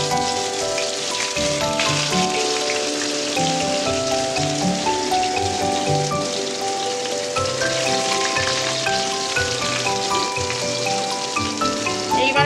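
Chopped onion sizzles hard in hot oil, a loud, dense hiss like heavy rain that holds steady for the whole stretch with no pauses.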